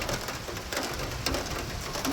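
Rain falls steadily on a leaking house, dripping water inside, a continuous soft patter with a few sharper drops, fairly faint and with no talk over it.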